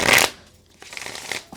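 Tarot cards are shuffled close by in a quiet room: a quick riffling burst, then softer sliding and flicking of the deck with no voices.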